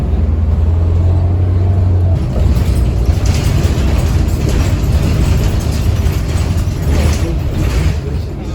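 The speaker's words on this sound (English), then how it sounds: "here's our Illini bus" An Illini CUMTD city bus rides along with a loud, steady engine and road rumble filling the cabin, plus rattles of mechanisms and a faint hum, continuous throughout.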